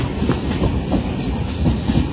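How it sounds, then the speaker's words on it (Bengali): Tamralipta Express train rolling into Ramnagar station, a loud, close rumble with rhythmic clickety-clack of wheels over rail joints running continuously throughout. "রামনগর স্টেশনে তাম্রলিপ্ত এক্সপ্রেস আসছে 3:30"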